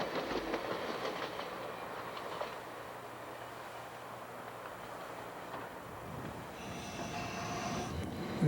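Canadian Pacific passenger train rolling on rails on the Laggan Subdivision, a steady rumble with clickety-clack wheel beats near the start, easing into a quieter roll with faint squeals near the end.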